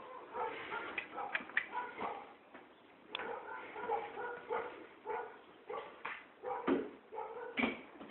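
A dog whimpers and whines at a door in short, uneven bursts, close by and fairly soft, with a few small yips in between.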